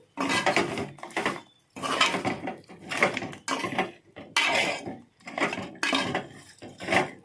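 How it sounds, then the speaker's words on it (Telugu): A spoon stirs goat head curry in a pot after salt goes in, scraping and clinking against the metal in repeated rhythmic strokes, close and distinct, with no talk. "ఉప్పు వేసానండి ఒకసారి కలిపేస్తున్నాను ఈ విధంగా కలిపేసి"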